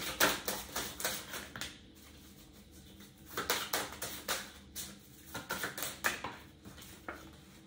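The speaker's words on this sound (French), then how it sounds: "Je vais reposer une ou deux cartes par-dessus." Tarot cards slap and tap down one after another onto a table in uneven clusters of crisp, close clicks, with short quiet gaps between groups and no speech.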